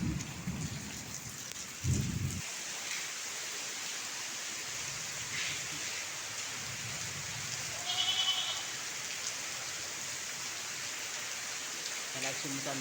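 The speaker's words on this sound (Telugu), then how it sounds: "వర్షం ఎంత గట్టిగా పడుతుందో చూడండి." Heavy rain pours down steadily around an abandoned college building, a dense constant hiss with a few louder gusts and low rumbling thumps.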